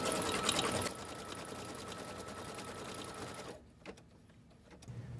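An embroidery machine steadily stitches an appliqué design, its rapid mechanical whir continuous and close, easing briefly near the end before picking up again, with no voices.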